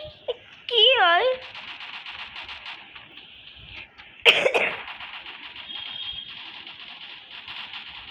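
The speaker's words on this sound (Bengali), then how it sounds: "আমার একটু কাশি হয়েছে" A person with a slight cough gives a sharp, burst-like cough midway, set among a voice, other talk and background game sounds.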